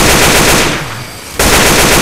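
Rapid automatic gunfire from a Left 4 Dead 2 firefight against mud men, loud and dense, briefly thinning mid-burst before the full-volume shooting resumes.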